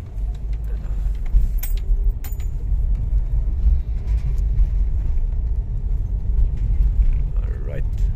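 Car engine idling rough with a check-engine misfire, a loud close low rumble that stumbles unevenly throughout, with people talking over it.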